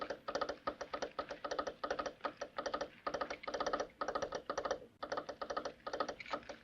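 A telegraph key in a western film, For a Few Dollars More (1965), taps out a message in quick bursts of sharp clicks, grouped into rhythmic runs with short pauses, fairly faint and alone.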